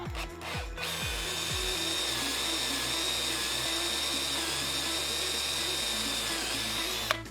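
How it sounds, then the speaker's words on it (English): A power drill whirs steadily at high speed, close up, after a few short bursts of the trigger at the start, drilling a hole in a cat tree. "we got to drill the right size hole."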